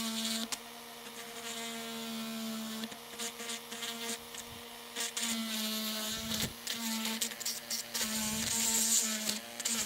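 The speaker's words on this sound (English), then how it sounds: "I think a bit more drilling is required" Drilling a bushing on a Kirby Legend Heritage 2 vacuum beater bar, a steady high whine with a constant hum, broken by several short stutters and catches as the bit bites, close and continuous.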